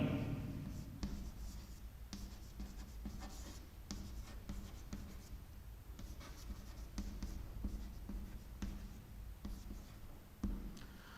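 A pen scratches steadily across paper while an accounting entry for goods sold is written out by hand, in short strokes and pauses, close and quiet over a faint background hum.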